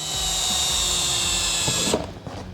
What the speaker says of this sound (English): So you just put your drill right on those.